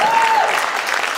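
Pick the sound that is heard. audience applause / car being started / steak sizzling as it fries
audience applause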